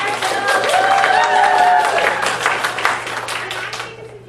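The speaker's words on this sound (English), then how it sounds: "Ready to give a round of applause for our Can" Audience applause at a costume contest, a dense wash of clapping from a crowd, with a voice speaking over it and the clapping thinning out toward the end.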